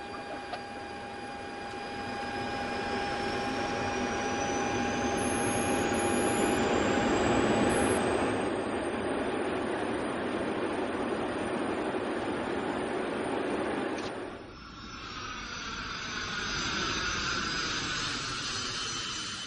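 An Ilyushin Il-62M jet airliner takes off, its engines building to a loud sustained roar with a high whine that climbs in pitch, then shifts and settles; no talking.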